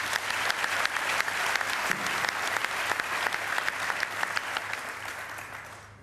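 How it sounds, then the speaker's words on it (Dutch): Audience applause for the jury at an entrepreneur-of-the-year award ceremony: dense, steady clapping from a large crowd that holds level throughout, then thins slightly at the very end. "Applaus voor de jury, zoek ze even."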